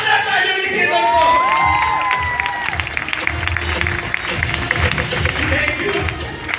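Large audience at an indoor gathering bursting into loud, sustained applause with cheering and whoops, dense and continuous from start to finish, voices shouting within the crowd.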